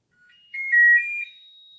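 A recorded electronic beep sequence of three quick, high-pitched notes rising like a little scale, short and clear, heard alone against silence.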